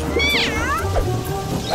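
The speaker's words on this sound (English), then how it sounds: "it's just a cat" A cartoon cat in a kids' training story meows loudly and up close, with rising and falling wails over a busy background that sounds like rain.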